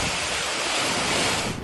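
Strong gusting wind roars during Typhoon Aghon, which is sweeping through coconut trees in Sariaya, Quezon. The noise is broad and steady, loud, and it buffets the microphone, with no one speaking.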